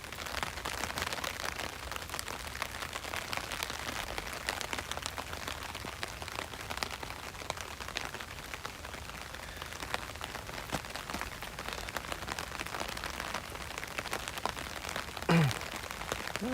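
Steady rain falls on the Philosopher's Path in Kyoto, a dense, even patter of raindrops on surfaces that continues throughout, close and moderately loud, with no talk.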